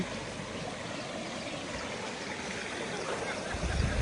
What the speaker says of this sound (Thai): ตอนนี้เรามาถึงน้ำตกแล้วนะครับ น้ำตกสุดยอดนะครับผม